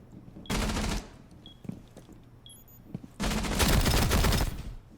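Two sustained bursts of rapid automatic gunfire from a TCSG in a video game, loud and dense, the first about half a second long and the second running near two seconds, with a quiet gap and faint clicks between them.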